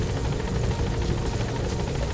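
A support helicopter arrives at a landing zone in Metal Gear Solid V: The Phantom Pain. A steady, loud, close rotor thump and engine roar runs throughout without talking.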